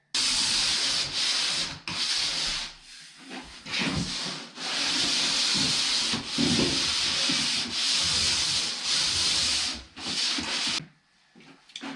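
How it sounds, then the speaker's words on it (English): Drywall ceiling texture in a garage apartment is sanded down in long, continuous abrasive strokes with brief pauses, loud and close, ending in near quiet, with no talking. "So let's get this sanded down so we can shoot all these ceilings today."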